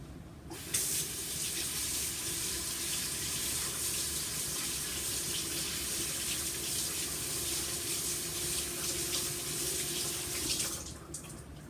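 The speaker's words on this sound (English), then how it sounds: "I'm going to rinse my hands off right quick." A kitchen tap runs in a steady gush as hands are rinsed under it, starting abruptly and stopping near the end, close and continuous with no talk.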